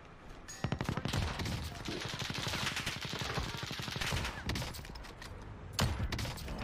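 Rapid gunfire in the Warzone video game, dense bursts of close shots crackling for several seconds, with one sharper report near the end.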